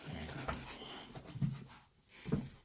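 A dog's paw scratches or taps in a few soft, separate bursts spaced about a second apart, close by and fairly quiet, with faint breathing sounds between them.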